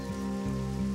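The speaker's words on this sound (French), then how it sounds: "C'est juste une petite averse." A light rain shower falls in an animated outdoor scene, a steady soft patter carrying on throughout the brief moment, with sustained tonal music underneath and no voices.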